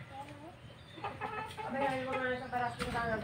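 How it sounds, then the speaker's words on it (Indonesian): A Bangkok-breed rooster at a chicken breeder's farm near Cianjur gives a run of close, rhythmic clucks, while someone talks over it. "jagonya nih, pakernya masih sehat, itu indukannya Birko"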